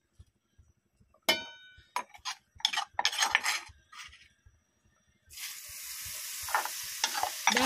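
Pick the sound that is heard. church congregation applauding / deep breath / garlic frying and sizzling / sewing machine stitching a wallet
garlic frying and sizzling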